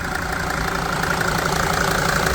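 The 2.7-litre diesel engine of a 2005 Mercedes Sprinter 416 tow truck idles steadily nearby, a continuous low rumble with a faint rhythmic knock and no voices.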